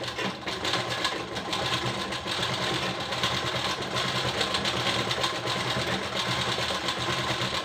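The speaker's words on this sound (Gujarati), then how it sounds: "આ રીતે આમાં આપણે ડબલ સિલાઈ લગાવી લઈએ." A sewing machine runs double stitching along a trouser pocket on ladies' pants, a continuous close mechanical whir and hum with a fast, even stitching rhythm and no pauses.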